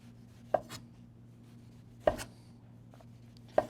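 A knife cuts the peel off a firm orange standing upright on its cut base, heard as three crisp, separate slicing thuds against a cutting board, spaced about a second and a half apart in a quiet room.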